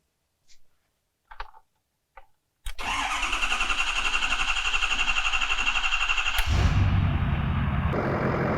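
A Ford Powerstroke 6.7L diesel with a newly installed S&S DCR pump cranks and fires after a few soft knocks, then settles into a steady, fairly quiet idle with a faint rhythmic tick and a shift in tone near the end.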